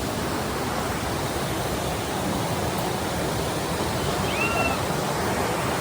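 Steady rushing water of a stream and waterfall at a Surigao del Norte resort, a dense continuous roar close by with no breaks.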